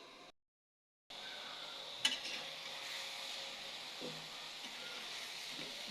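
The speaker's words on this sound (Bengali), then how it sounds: "ভালো মতো কষাই নেব।" Curry being sautéed and stirred in a pan for Bengali kosha gives a faint, steady sizzle and hiss after a brief silent gap, with a single utensil clink against the pan and soft scraping.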